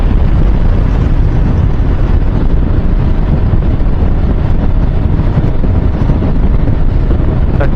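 Riding a Bajaj Pulsar RS200 motorcycle, a loud, steady roar of wind buffets the microphone throughout, swamping any engine sound in a constant rush.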